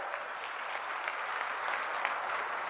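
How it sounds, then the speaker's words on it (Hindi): Crowd at a political rally in Bharatpur with former chief minister Vasundhara Raje, clapping together in a dense, steady roar of applause that holds evenly throughout, moderately loud with no voices on top. "जोरदार तालियों के साथ।"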